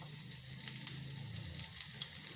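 Thickly sliced onions with cloves and cinnamon frying in two spoons of oil, a continuous close sizzle with small crackling pops, no voices.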